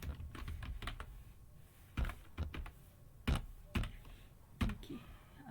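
Computer keyboard being typed on to enter a new MySQL password, close, quiet key clicks in short irregular bursts with pauses between them and no talking.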